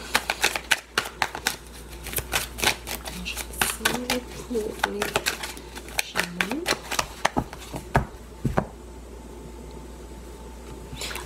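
Tarot cards being cut and shuffled by hand: a quick run of close, crisp paper snaps and riffles, some sharp and some softer, with a voice speaking over them.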